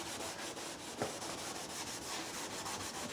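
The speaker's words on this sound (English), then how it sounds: "the first thing that it said to do in the kit was to clean the headlight cover" A cloth wipes across the plastic headlight cover of a 2004 Nissan during a restoration, a soft, steady, fairly quiet rubbing hiss that continues without pause, with one small bump partway through.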